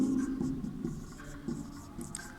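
Handwriting on a board or page during a Sanskrit lesson, a steady scratchy stroking that continues throughout at low volume with no speech over it.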